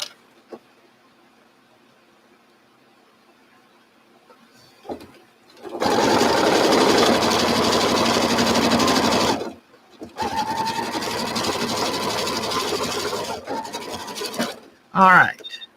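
A sewing machine stitches quilt pieces in two sustained runs with a short pause between, loud and close, after a quiet stretch with faint handling sounds, ending with a brief burst of rustling.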